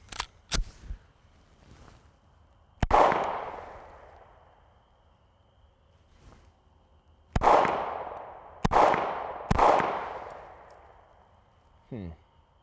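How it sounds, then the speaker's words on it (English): A Canik MC9 Prime pistol fires several sharp, loud shots outdoors, one single then three in quick succession later, each cracking hard and ringing out with a decaying tail, among quieter clicks and handling noises. "First shot, the all-new Canik MC9 Prime."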